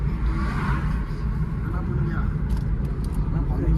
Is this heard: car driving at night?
yes